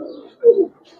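A Giribaz pigeon cock coos nearby, with a louder rolling call in the middle and fainter murmurs around it.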